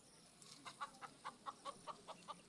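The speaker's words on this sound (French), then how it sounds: "C'est un coq, vous voulez faire quoi avec lui là?" A rooster on a small-scale poultry farm makes a rhythmic series of about ten short clucking calls, evenly spaced, against steady outdoor background noise at moderate distance.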